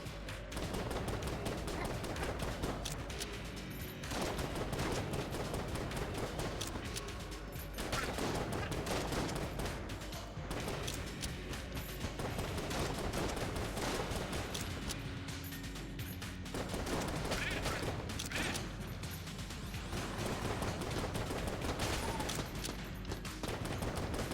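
The Phoenix weapon in Enter the Gungeon fires in dense, continuous bursts, a loud rapid crackle of shots with brief pauses between volleys, alongside game effects.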